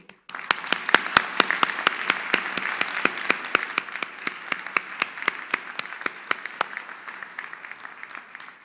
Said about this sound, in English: could I please now ask our graduates and staff to join me with applauding all of the supporters